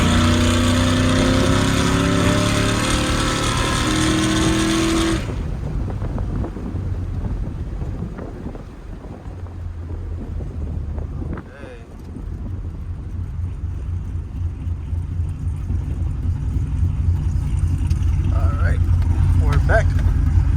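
A cammed 5.3 V8 fitted with a Carven R exhaust revs loudly nearby, a deep rumbling drone with a sharp drop-off after a few seconds, then a steadier idle burble and rising revs, with wind buffeting the microphone.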